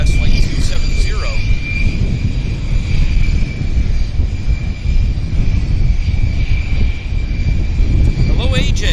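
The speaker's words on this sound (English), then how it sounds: "CRJ trundling along, making its way to the active." A CRJ regional jet taxis toward the active runway at Vancouver airport. Its engines make a loud, steady roar with a high whine for the whole stretch.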